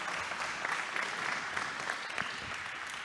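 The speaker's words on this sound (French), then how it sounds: "on peut les applaudir" Steady applause from a sizeable conference audience fills the whole stretch, an even dense wash of clapping without pauses.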